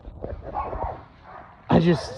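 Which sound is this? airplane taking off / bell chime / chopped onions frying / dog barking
dog barking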